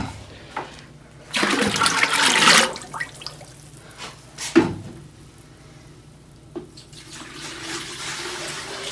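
A rushing gush of water pours into a container for about two seconds during cold process soap making, followed by scattered clunks and small splashes nearby; no talking.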